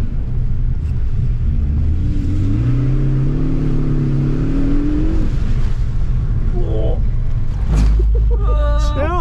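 A loud car engine drones and rises in pitch as it revs at a rainy autocross event, with road rumble underneath and a brief voice near the end.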